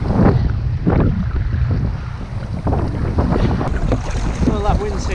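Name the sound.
wind at sea during kayak fishing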